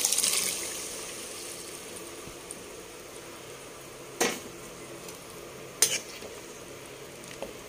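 Boiled chickpeas are stirred into fried masala in a pan, giving a soft continuous sizzle with a few sharp scrapes of the spoon against the pan.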